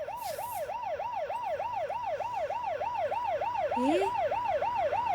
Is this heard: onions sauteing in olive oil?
no